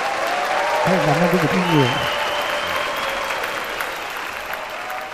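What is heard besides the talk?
audience applause for a singer on a TV show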